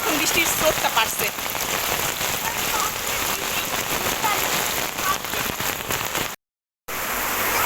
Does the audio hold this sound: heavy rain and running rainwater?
yes